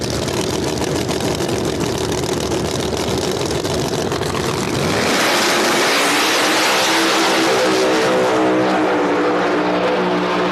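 Drag race cars at a No Prep Kings Beat the Champ event in Virginia, with Murder Nova winning on its rear wheels, roar loud and close, a dense engine blast that shifts into a rising, harmonic whine as the cars pull away.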